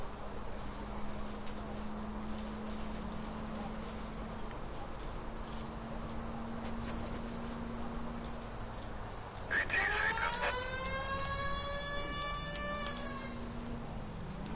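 A police car siren in the video game L.A. Noire starts wailing about two-thirds of the way through, with a steady tonal cry rising over constant game background noise, while someone talks.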